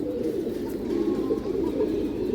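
Black-throated female pigeon cooing, a low soft continuous warbling coo repeated in close succession, near and clear with no talk.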